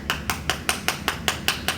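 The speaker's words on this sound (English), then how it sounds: "You can just lightly hammer." A small rawhide mallet lightly taps a trumpet mouthpiece on a truing tool, producing nine evenly spaced, crisp knocks with a bright metallic edge, close and alone.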